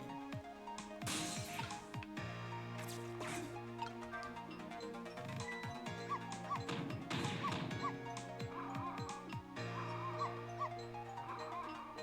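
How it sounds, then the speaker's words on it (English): Barks and whimpers from a dog in the video game Ghost Trick sound over a steady musical melody, with sharp hits and crashes scattered through, all fairly faint. "If you bark like that, can anybody enjoy the pretty melody?"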